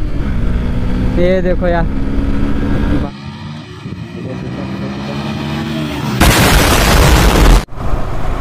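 A Yamaha motorcycle, R15 V4 or FZ, ridden on a road, its exhaust letting out sharp backfire pops over loud engine drone and wind, with someone talking during the ride.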